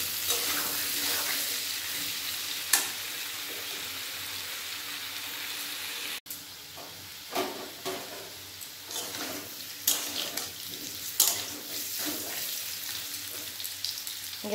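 Chunks of elephant foot yam and potato fry in hot oil with a steady, close sizzle. Scattered scrapes and knocks of stirring rise above the hiss, and nobody speaks.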